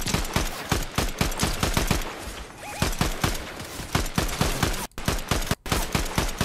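Rapid bursts of automatic gunfire in a first-person shooter video game, dense repeated shots at close range with a couple of brief gaps, loud and continuous over a low background.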